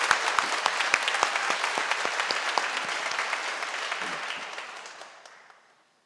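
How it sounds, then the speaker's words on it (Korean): A church congregation applauds the choir conductor during a Sunday service, a lively burst of many hands with distinct sharp claps early on, gradually thinning and fading out to silence. "제가 한번 박수를 드리고 싶습니다"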